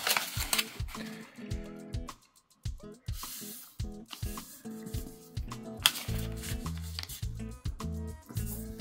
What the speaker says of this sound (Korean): 이렇게 세모 접어주시고 펼쳐서 또 한번 세모를 접어주세요